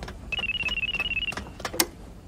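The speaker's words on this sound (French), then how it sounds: "Astro regarde le téléphone accroché sur le mur." A wall-mounted telephone rings with a rapid, steady electronic trill for about a second, then stops, followed by a few clunks and a sharp click as the handset is picked up.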